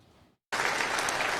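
Applause bursts out after a brief quiet and continues loud and dense, greeting Trump at the inauguration of the Council of Peace in Davos.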